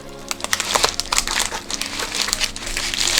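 Packaging for a Sony AC adapter being cut open, heard as close, continuous crinkling and crackling of plastic with scattered sharp snaps throughout.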